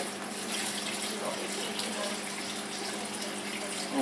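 Water pours steadily into a 25-litre AQUAEL AQUA4 KIDS aquarium, a continuous close splashing rush that stays even and loud for the whole stretch.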